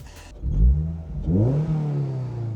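A Mazda NC Miata's engine blips twice in quick succession, each rev rising and falling back to a close, moderately loud idle hum.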